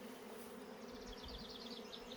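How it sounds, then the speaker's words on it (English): Honey bees in a hive, a brood frame lifted during inspection; a soft continuous buzzing hum, close and steady, alone without talk. "Lots of bees."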